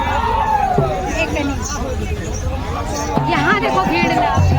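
Dense crowd hubbub fills a packed, road-jammed fairground at the Jhirna fair in Kawardha, Chhattisgarh, with a steady wash of overlapping voices and chatter.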